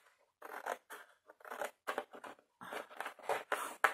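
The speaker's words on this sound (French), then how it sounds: "Et je n'arrive pas, avec ces ciseaux, à découper jusqu'au bout." Quick snipping of scissors through lampshade material at close range, a rapid irregular series of crisp cuts with brief pauses, fairly quiet with no voices.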